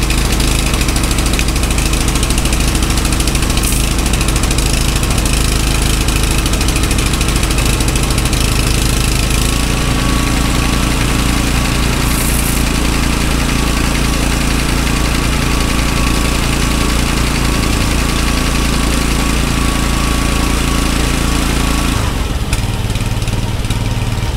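A motorized sprayer engine runs loud and close while misting crops, a steady buzzing drone with a slight rough knock, changing pitch briefly near the end.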